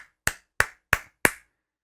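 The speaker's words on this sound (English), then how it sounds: "I can clap for you." Four sharp hand claps in a steady, evenly spaced rhythm inside an echoey room, each one crisp and close with a short reverberant tail, and no talking.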